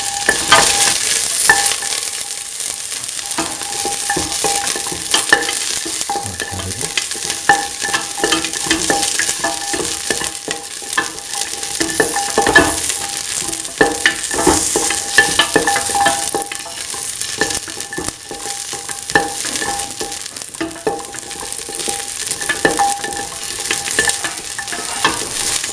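Garlic and shallots sauté in a pan with salt, a loud continuous crackling sizzle that runs throughout, broken by frequent stirring scrapes and small clicks. No one speaks.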